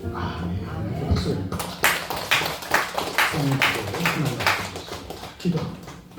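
A church congregation claps during a service, with scattered sharp hand claps building up and continuing under a voice speaking.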